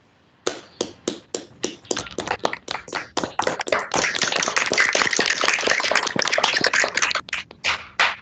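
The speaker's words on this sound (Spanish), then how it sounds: "vamos a darle un fuerte aplauso y darle las gracias" An online audience applauds a doctor after a talk on carbonation in reinforced concrete: scattered separate claps begin, swell into dense, loud applause, then thin out again near the end.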